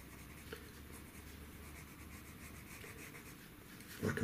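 Coloured pencil shading on paper for a cartoon, a close, steady scratchy rubbing of strokes, quiet and continuous, ending in a slightly louder scrape.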